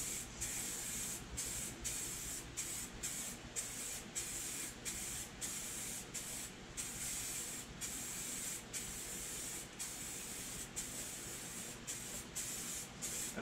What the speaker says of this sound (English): And it kind of sprays out, you know, in a line